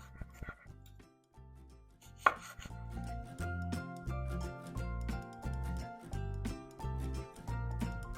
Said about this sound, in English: Our tenderloin is rested, so let's slice it up and see how we did.